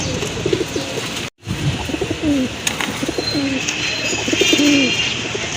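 Brown Chila pigeons, a pair for sale, coo in a series of low rolling calls close by, repeating steadily over a noisy background with a brief dropout early on.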